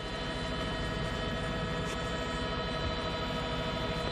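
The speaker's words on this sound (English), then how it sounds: "if he can hear the sound of your chopper" A steady, droning helicopter rotor and engine hum fills the air continuously during a police pursuit, loud and unchanging, with no voices.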